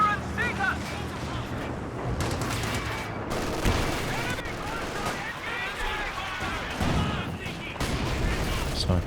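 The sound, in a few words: artillery and gunfire in the video game Company of Heroes 2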